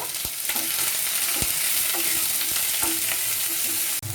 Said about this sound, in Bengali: পেঁয়াজ কুচি পেঁয়াজটাকে একটু লাইট ব্রাউন করে ভেজে নেব